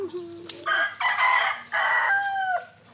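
A rooster gives a loud, close crow in several drawn-out rising and falling phrases, with a brief cluck at the start, heard alone over a quiet background.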